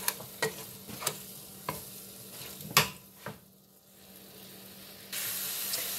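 A spoon stirs tomato cooking down in a pot for chicken curry, soft scattered scrapes and taps over a low simmering hiss that swells into a steadier sizzle near the end, quiet and close.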